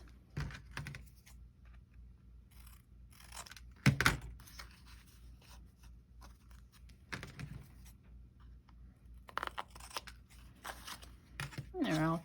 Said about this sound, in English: Now I'm going to take my card that I've cut the corners off of and cut tag shapes.